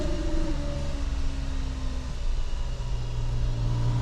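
A 2002 Porsche 996 C4S engine cruising steadily at about 3,000 RPM, a loud, continuous mid-range drone with a low rumble and slight pitch shifts, heard alone.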